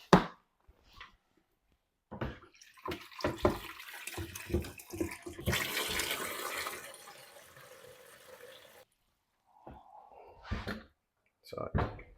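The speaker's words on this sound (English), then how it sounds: "Water needs to be filled up." Water running from a tap into the small plastic water tank of a 6-in-1 robot vacuum mop, a filling hiss lasting several seconds between clicks and handling knocks of the tank, with a brief voice near the end.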